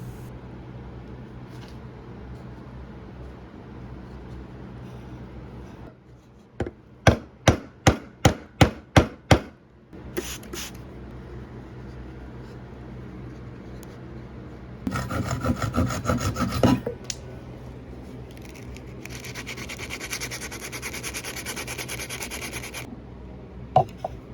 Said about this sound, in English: The dowel was glued in place with wood glue and cut to size with a Japanese saw